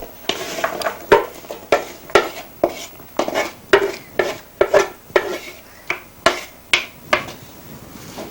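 Chopped potatoes and celery stirred into a pot of cooked meat and onions, giving a steady series of knocking, clattering scrapes of a utensil against the pot, about two per second and close by.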